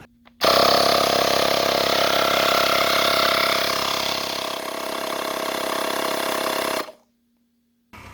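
Portable tire inflator pumps air into a motorcycle tire with a loud, steady, buzzing motor drone that starts abruptly, eases slightly midway and cuts off sharply near the end, with no talk.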